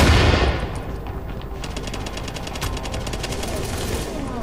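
Rapid automatic gunfire in The Division, a steady close rattle of shots after a loud opening burst, running continuously throughout.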